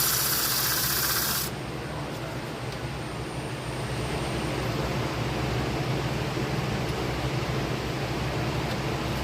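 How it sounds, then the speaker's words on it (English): Sandpaper rubs against a spinning plywood box on a wood lathe, a steady broadband hiss with a continuous motor hum underneath, louder and brighter at first, then settling into an even, sustained rasp. "This part could be sanded too a little bit, so I'm gonna sand this part as well."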